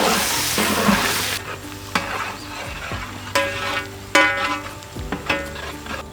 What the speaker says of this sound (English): Now we will add chopped onions.